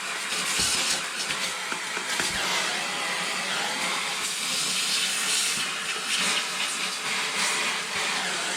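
Lukewarm soapy water runs steadily from a tap while a house heat pump part is washed, a broad continuous rushing hiss with small splashy fluctuations, close and fairly loud throughout with no talking.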